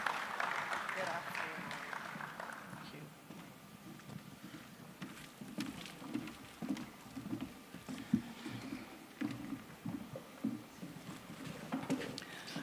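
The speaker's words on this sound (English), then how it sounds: "Please, a round of applause for her once again." Faint, steady clapping from a conference audience at AGE Lagos 2025, a soft continuous patter lasting throughout, with voices speaking over it.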